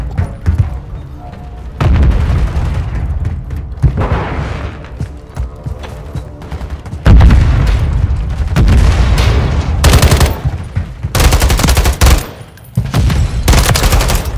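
Grenade blasts and gunfire from Call of Duty Modern Warfare III, with loud booming bursts and rapid shot volleys recurring through the clip, densest in the second half, under game background noise.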